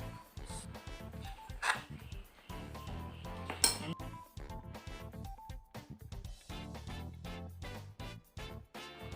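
Ampas tarigu ingredients, flour and grated coconut, are mixed in a bowl, with a spoon clinking and scraping against the sides in a steady, irregular rhythm of close, moderately loud knocks.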